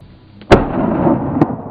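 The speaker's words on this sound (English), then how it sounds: "Gunfire tore through the air, each bullet hurtling straight into its target." A sharp, loud gunshot crack followed by a rolling echo, then a second fainter shot about a second later, during a wild boar hunt in Texas.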